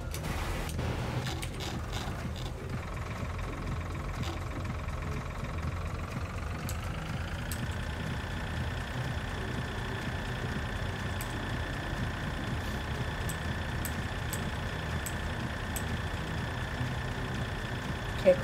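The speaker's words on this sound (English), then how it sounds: "So I'll get the red tractor over here and get working on this" Red tractor engine in Farm Simulator 2013 working a field with a cultivator, a steady droning hum that holds level throughout, settling into a slightly higher sustained tone after a few seconds, with faint clicks on top.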